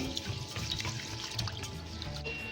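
Rice is washed with water for mutton biryani, giving a soft, close trickle and swishing slosh that runs on quietly, with no talk.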